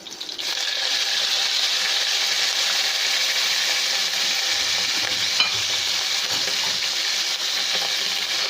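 Chicken pieces sizzle loudly in a pan of hot oil with garlic fried light golden, a steady close hiss and crackle that continues unbroken with no talking.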